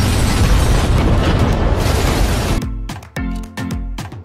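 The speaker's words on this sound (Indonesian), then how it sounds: "Rajbir pun langsung menembaki mobil mereka sampai meledak" A car shot up until it explodes in an action film scene: a loud, sustained roaring blast for over two seconds, then a rapid series of sharp gunshot-like cracks.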